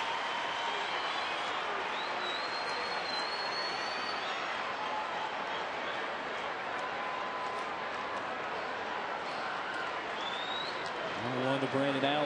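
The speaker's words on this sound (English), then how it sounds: "Tracy makes a curtain call in reaction of the crowd." A baseball stadium crowd applauds and cheers for a curtain call at an Arizona Diamondbacks home game, a dense sustained roar heard from a distance under a broadcaster's voice.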